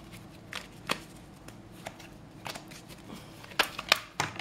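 Tarot cards being shuffled for a reading, heard as soft scattered riffles and card taps close by, quiet with a few sharper snaps near the end.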